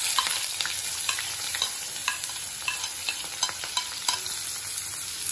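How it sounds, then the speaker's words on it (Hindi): Chopped onions fry in well-heated cooking oil for a vermicelli snack. A steady close hiss of sizzling runs throughout, broken by frequent sharp clicks and scrapes from a utensil stirring against the pan. No one speaks. "अब ये ऑयल हमारा अच्छे से गरम हो गया है, अब हम इसमें प्याज डाल देंगे।"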